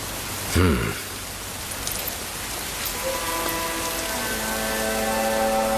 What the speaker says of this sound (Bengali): তোমার সন্তানের পবিত্র আগমনে এই অঞ্চলে বৃষ্টি বর্ষিত হলো।